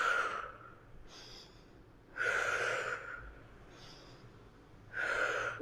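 Slow, deliberate breaths during a yoga exercise for the back and hips: three soft exhales spaced a few seconds apart, close and quiet, with hushed breathy air between them. No talking.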